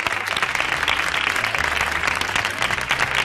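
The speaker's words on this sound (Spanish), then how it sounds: "Un aplauso muy fuerte." A studio audience gives Antonio Carbonell loud, sustained applause, a dense wash of many hands clapping steadily with a low murmur of crowd underneath.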